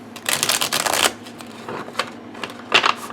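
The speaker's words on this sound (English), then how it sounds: "Give these a shuffle." A tarot card deck is riffle-shuffled up close, a dense papery rattling burst followed by several shorter flicks and taps as the cards settle, with no talk.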